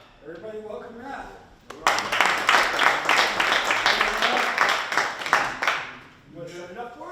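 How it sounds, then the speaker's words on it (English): Audience applause at an actors' networking dinner, a loud, dense burst of clapping that rises suddenly and holds steady for about four seconds before fading, with talking before and after. "Audience will judge by applause."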